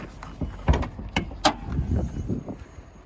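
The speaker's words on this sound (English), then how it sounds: "We can pop this hood and check under it really quick." A Buick Century's hood is popped open with a series of sharp mechanical clicks and clunks at close range, separated by brief pauses.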